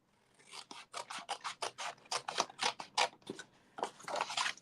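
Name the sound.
cutting material along a score line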